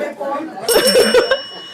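A bicycle-style bell rings in a short burst of bright, sustained metallic tones, fairly close and loud, with a chuckle and some talk mixed in around it.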